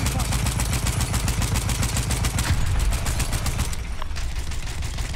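Battlefield 1 multiplayer gunfire rattles in dense, continuous rapid bursts, loud and close, with overlapping shots filling the whole stretch and a brief thinning near the end.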